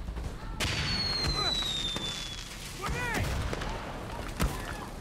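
Gunshots crack out in a Far Cry 6 firefight, several sharp reports spaced across the moment with whizzing tones and echoes, while a player talks over them.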